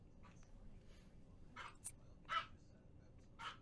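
Dog barking in the background of an indoor meeting, a few faint, short barks spaced irregularly over low room noise.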